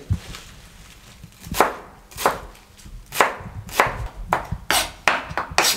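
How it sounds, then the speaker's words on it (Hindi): A knife chops vegetables and spinach on a board for a Spanish omelette, in steady single strokes that grow sharper and closer together, alone with no talk. "ये सब वेजिटेबल हमने काट ली"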